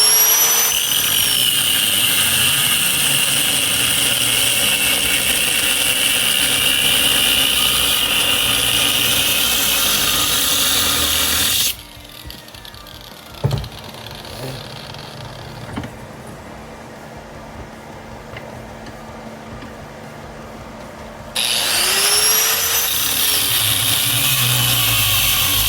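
A cutting wheel bites into a motorcycle slip-on exhaust pipe with a loud, high, screeching whine. The cut pauses for a quieter stretch with a sharp knock, then the grinding resumes.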